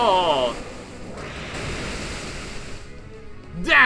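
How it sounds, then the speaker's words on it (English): Waterfall attack from Pokémon Omega Ruby, a loud rushing wash of water noise that swells in and holds steady for several seconds, ending in a sharp rising chime, with a voice talking over the start. "Waterfall!"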